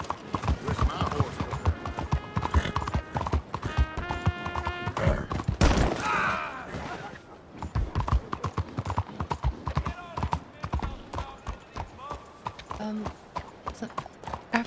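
Rhythmic hoof clip-clops from a horse in a Red Dead roleplay game, steady and fairly close, mixed with game music and background noise.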